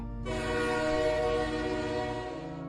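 A loud, sustained train horn blares steadily for a couple of seconds over a low rumbling rail background at a station, with no voices.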